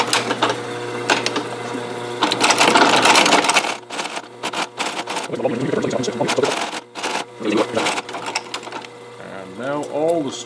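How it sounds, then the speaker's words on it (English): A sewing machine stitches a pancake saddle-style leather holster in bursts of rapid mechanical chatter that start and stop, with a person talking between and over the runs. "And we'll repeat the stitching operation that we just did on the front side."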